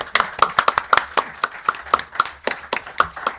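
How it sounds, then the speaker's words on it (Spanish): A small audience at a sports and mental health talk gives a brief round of sparse, uneven clapping, with individual hand claps standing out clearly in an irregular rhythm. "Un aplauso, moderador."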